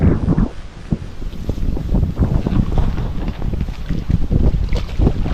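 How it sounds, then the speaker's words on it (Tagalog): Strong wind buffets the microphone in loud, gusting bursts of low rumble by a river while fishing, continuous throughout with no voices. "Ang lakas ng hangin."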